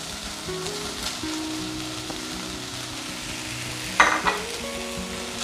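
Squid stir-fry (koonthal thoran) with crushed coconut being tossed and mixed in a pan, a steady close sizzle with soft scraping strokes and a sharper clatter near the end, no voices.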